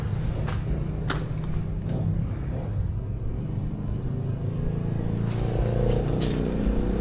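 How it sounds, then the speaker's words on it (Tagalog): Motorcycles rumble past continuously on a highway, a low, steady roar with brief engine swells as they go by. "So maririnig natin yung mga motor dumadaan kasi nga highway lang yan."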